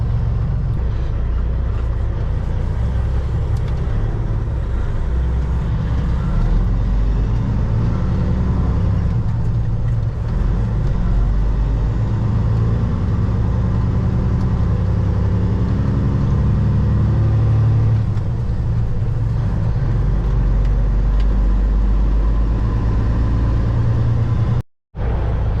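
Kenworth W900 semi truck with an 18-speed transmission rumbles steadily at close range while the driver double clutches, a deep continuous engine drone with slight shifts in pitch and a brief cutout near the end.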